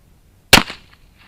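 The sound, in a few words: gunshot from an Uberti 1849 Pocket cap-and-ball revolver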